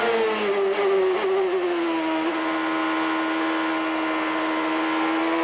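A 1998 CART race car engine at Jacarepaguá accelerates out of a tight corner, a loud, close, continuous high-pitched whine that holds steady and sustained throughout.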